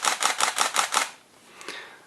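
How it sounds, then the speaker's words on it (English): Nikon Df camera shutter firing in continuous high burst mode, six rapid evenly spaced clicks close to the microphone, then a softer trailing mechanical sound. "and this is continuous high."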